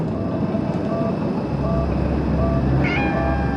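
A cat in the horror game Conarium gives a few meows over a constant droning background hum, heard near and clear with no voices.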